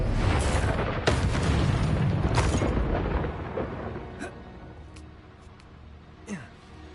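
Bombarda spell going off in Hogwarts Legacy: a heavy booming blast with a rumbling tail, followed by scattered smaller bursts and pops that fade into quieter game ambience.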